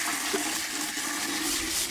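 Water sloshes and rushes steadily as it is poured from a bucket to flush and wash something away, a continuous splashing wash of sound that stays fairly loud and near throughout.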